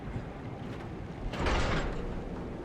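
A door in the underwater sci-fi game SOMA opens with a short mechanical whoosh and hiss over a low rumbling background hum, rising for about half a second before settling back.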